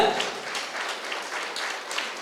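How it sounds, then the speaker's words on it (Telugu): An audience claps continuously in a dense, even burst of applause at a meditation centre's anniversary celebration. "గట్టిగా చప్పట్లు కొట్టండి ఒకసారి"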